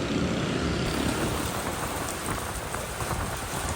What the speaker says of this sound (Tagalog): Halos mamuti ang langit nang bumuhos ang napakalakas na ulan sa Quezon City kaninang hapon.